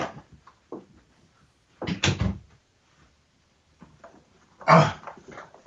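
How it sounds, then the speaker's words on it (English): Door being pushed shut indoors, a few scattered knocks and shuffles building to a louder thud near the end, heard alone without talk. "I got to close the door."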